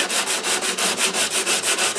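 Steady back-and-forth sanding of the thick flaking finish on a Larrivee guitar's wooden top, loud close rhythmic rasping strokes about four per second, with no talk.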